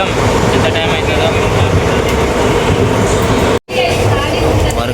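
Steady, loud rumble of a passenger train running along the track on a journey from Nandyal to Chirala, filling the whole stretch with broadband rolling noise and a brief sharp dropout near the end, with talk faintly present.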